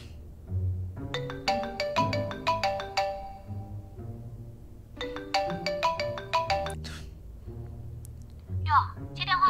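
A mobile phone plays a melodic ringtone in repeated bright chiming phrases with pauses between them, moderately loud, with a voice speaking briefly near the end.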